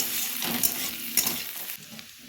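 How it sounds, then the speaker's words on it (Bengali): Cashews sizzle in hot oil in a pan for a cauliflower roast, a steady close frying hiss broken by a few light scrapes of stirring. "খুব বেশি ভাজা চলবে না কাজুগুলো যেন লাল না হয়ে যায় সেদিকে খেয়াল রাখতে হবে তো একটু ভেজে নিই"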